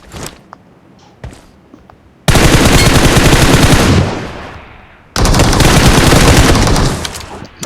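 Heavy automatic gunfire from the mobile battle-royale game PUBG Mobile, loud sustained bursts about two and three seconds long separated by a short lull, preceded by quieter footsteps and small in-game noises.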